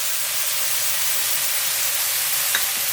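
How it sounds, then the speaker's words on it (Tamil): Tomatoes, crushed garlic and green chillies cook in a pan with a steady, dense sizzle throughout, close and even, with a faint clink near the end. "தக்காளி போட்ட உடனே இந்த நம்ம இடித்து வச்ச பூண்டையும் பச்சை மிளகாயும் சேர்த்துறேன்."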